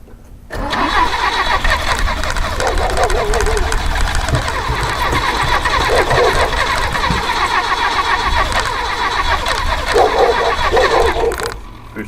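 A 1969 Datsun 521 pickup cold-starts, the engine catching after a brief crank and running loud and steady at a rough, uneven idle for about ten seconds before cutting off, with voices faintly audible over it.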